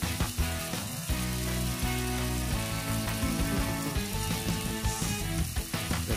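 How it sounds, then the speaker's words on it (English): Loud, steady sizzling and crackling of gravy for Salisbury steak on a very hot sizzling plate, continuous throughout with clattering stirs and no speech. "we can put the gravy when it sizzles"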